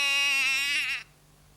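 A single lamb bleats once in a wavering, nasal cry lasting about a second, then cuts off into quiet.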